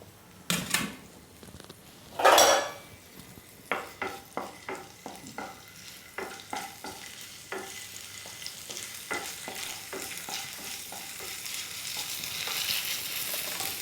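Ginger stir-fried in a pan for veg spring rolls: a loud initial sizzle as it hits the hot oil, then a steady series of spatula scrapes and clinks against the pan, with frying hiss building toward the end.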